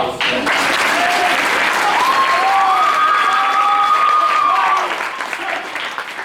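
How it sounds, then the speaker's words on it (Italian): An audience at a carnival show bursts into sustained applause, loud and dense clapping that holds steady for several seconds before tapering off, with a whistle or cheer riding over it midway. "Vi do un applauso"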